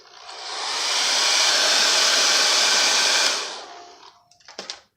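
A hair dryer drying chalk paste on a craft transfer blows a loud, steady, close whoosh. It runs continuously for a few seconds, then winds down and cuts off, followed by a couple of faint clicks.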